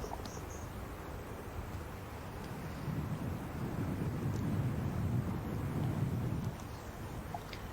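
Strong wind gusting across an open golf course during the AIG Women's Open: a low, rumbling roar that builds through the middle and eases off, with faint high chirps above and no voices.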